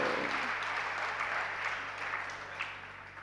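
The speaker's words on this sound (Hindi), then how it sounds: "ताली क्यों बजा रहे हैं आप लोग?" A seated audience at a religious discourse claps in a steady, moderate burst, the applause fairly soft and even throughout with no voices over it.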